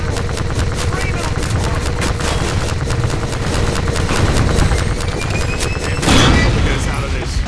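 Dense, sustained gunfire and explosive booms rumble through a Half-Life 2 Episode Two battle near a sawmill with a Strider, loud and continuous, swelling into a heavier blast near the end while voices shout underneath.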